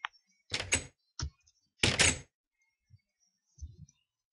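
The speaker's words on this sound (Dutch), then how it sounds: "Nou, we plaatsen een deur." Door being placed and used in Minecraft with Bibliocraft mods: a few short wooden clunks and knocks separated by silence, soft and close, no talk.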